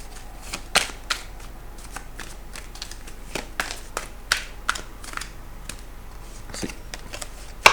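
A deck of angel abundance oracle cards is shuffled by hand, a series of crisp riffling bursts and soft taps in irregular rhythm, close and quiet with no talk.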